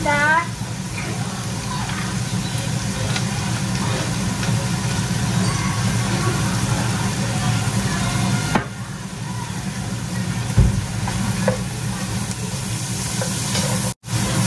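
Meat sautéed in a pan for pasta gives a continuous close sizzle with occasional stirring clinks, holding steady throughout under a low background hum.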